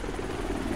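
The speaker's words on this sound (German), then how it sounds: "Ah, Scheiße, das ist ja noch ein Heli." Helicopter in the Ghost Recon Future Soldier video game, a steady close rotor thrum with dense low-pitched chopping, loud and continuous through the brief moment.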